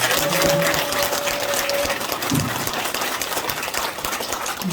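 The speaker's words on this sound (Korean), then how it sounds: "경례를 해주신 조원진 대표님께 뜨거운 박수를 한번 다시 한번 드리겠습니다" Audience at a press conference for a Seoul Gangseo district head candidacy breaking into sustained, dense applause, steady and fairly loud throughout, with faint voices underneath.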